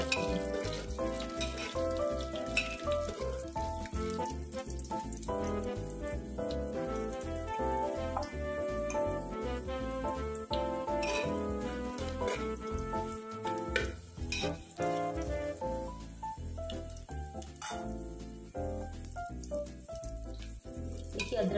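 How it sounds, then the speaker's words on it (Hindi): Ginger and garlic frying in a pan for a jackfruit curry give a steady, close sizzle that runs unbroken for the whole stretch, with faint stirring clinks and kitchen sounds over it and no one talking. "अदरक लहसुन हमारे भून चुके हैं, एक अच्छी सी खुशबू आने लगी है"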